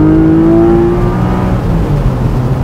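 A 2020 Porsche Boxster GTS with a 4.0 six-cylinder engine in second gear at about 50 mph on a country road, giving a loud, steady engine drone whose pitch sags slightly after a shift.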